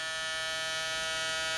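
A Caliber electric foil shaver runs steadily, a constant quiet buzzing hum with a bright harmonic whine, close and alone with no talking.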